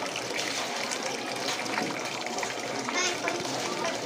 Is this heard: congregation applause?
no